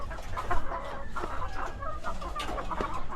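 Chickens clucking inside a backyard chicken coop, several birds making repeated close, busy clucks and squawks over a soft background, with no talk.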